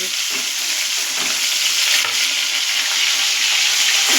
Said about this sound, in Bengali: এটা ঢাকা দিয়ে ভাজছি, তাই 1-2 মিনিট পর মাছটাকে আমি ঢাকনাটা খুলে দেখে নেব।